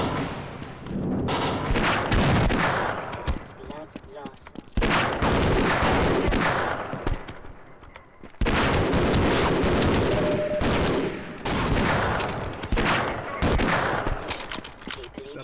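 Pistol fire in the video game Half-Life, loud sharp shots in dense rapid bursts with short pauses between volleys, close and dominant, with a voice speaking briefly between them.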